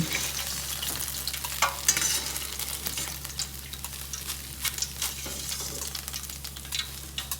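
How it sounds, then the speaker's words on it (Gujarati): Boondi droplets of batter frying in hot oil for motichoor ladoo give a steady, close sizzle with scattered sharp crackles and pops throughout, with no talking. "આ ગુંદી પણ સરસ રીતે તળાઈ ગઈ છે"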